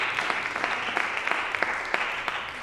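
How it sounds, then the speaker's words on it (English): An audience claps after a lecture on Stowe's The Pearl of Orr's Island, giving a dense, even patter of applause with small sharp peaks, steady and moderately loud for the whole stretch. "let's give another round of applause to Dr. Reutter"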